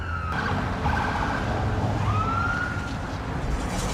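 An ambulance's wailing emergency siren sounds steadily over loud road and engine noise, its pitch sweeping up and down throughout.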